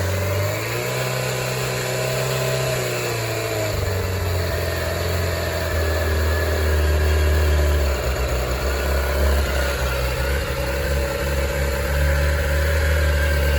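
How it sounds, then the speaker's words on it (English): A Suzuki GSX600F motorcycle engine idles steadily and rumbling at close range, with a low throbbing drone and a slight shift in pitch partway through; no voices. "She's idling now much smoother,"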